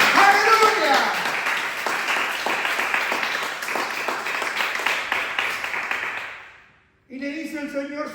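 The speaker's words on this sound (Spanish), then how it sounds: "¿Le puede dar un aplauso a Jesucristo?" Congregation clapping in a church service, quick rhythmic applause with voices over it that fades away near the seventh second, followed by a short burst of a person shouting.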